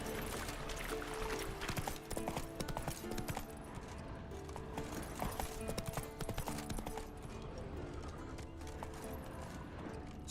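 Horse hooves gallop in The Witcher 3, a fast, steady clip-clop rhythm over constant game ambience, fairly loud and close throughout.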